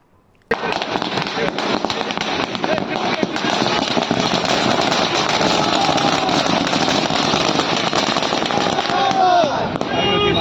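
Firecrackers burst at a street political demonstration in a dense, continuous crackling barrage that runs loud and steady from just after the start to the end.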